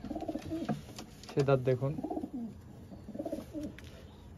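A pair of flying pigeons, one a Saharanpuri crested hen, coo in soft, low rolling calls close by, while someone talks over them.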